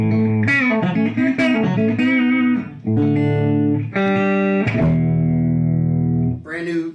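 Electric guitar notes and chords ring out through a delay reverb pedal into a Synergy SYN-50, with repeats trailing behind each phrase.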